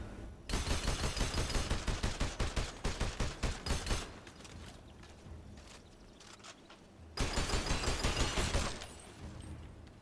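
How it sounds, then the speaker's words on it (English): AK rifle in a video game firing long automatic bursts, a fast steady stream of loud close shots that stops, leaves a ringing echo tail, then resumes in a second sustained burst. "Hit him with that AK."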